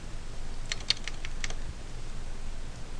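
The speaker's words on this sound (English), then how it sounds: "talking and typing at the same time doesn't work for me" Code being typed on a computer keyboard: a short burst of crisp, close key clicks in an uneven rhythm, then a quiet steady room hum with no talking.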